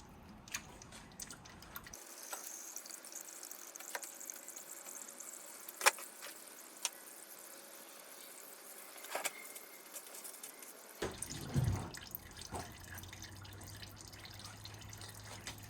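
Automatic transmission fluid drains from the open sump of a Nissan Micra K12 in a steady, quiet trickle with faint drips, alone with no talking and a few small knocks and clicks.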